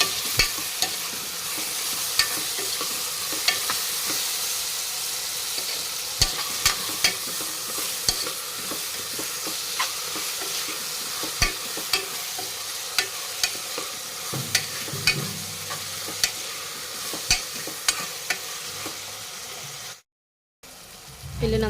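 Vegetable pulao masala with tomatoes, coriander and garlic paste being stirred in a frying pan, a soft continuous sizzle with regular spoon scrapes and taps against the pan, close, ending in a brief silence.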